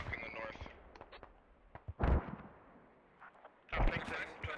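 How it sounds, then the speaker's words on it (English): Mortar rounds landing during a Squad match, two loud broadband blasts with short rumbling tails a couple of seconds apart, mixed with chatter, clicks and scattered game noise. "The mortars is what's fucking the north."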